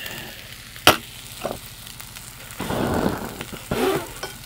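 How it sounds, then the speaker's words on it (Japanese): Pork and kimchi stir-fry sizzling in a skillet, with crackling bursts of frying that swell and fade as the food is moved, a sharp clank near the start and no talking. "キムチと豚肉炒めて"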